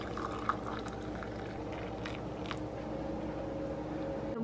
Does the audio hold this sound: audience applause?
no